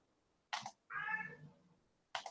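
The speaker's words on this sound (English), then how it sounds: "there's a cat going." A cat meows in one drawn-out, tonal call lasting about half a second, framed by short bursts of sound just before and after it, all fairly close and fairly loud.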